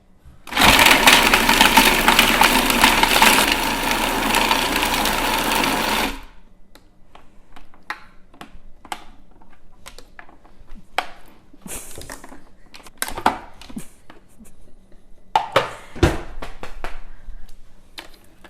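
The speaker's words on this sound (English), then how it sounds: "we are now going to process the meat and get it all ready." A food processor grinds beef for chi kofte, running loud and continuous for about six seconds before stopping, followed by scattered scraping and clattering sounds from the bowl.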